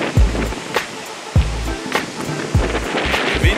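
Strong wind buffets the microphone in heavy low rumbling gusts, with broadband roaring noise throughout and repeated thumping bursts.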